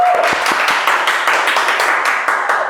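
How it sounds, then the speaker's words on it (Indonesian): A podcast audience claps to welcome a guest, a dense run of overlapping hand claps from a small group, steady and fairly close for a few seconds. "Tepuk tangan dulu dong"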